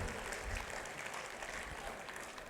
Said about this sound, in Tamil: அப்பாஸ் அவர்களுக்கு மிகப்பெரிய கைத்தட்டல் கொடுங்கள்